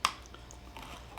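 Someone bites and chews a crunchy toffee-and-chocolate candy bar, opening with one sharp crack up close followed by quieter wet, squishy chewing.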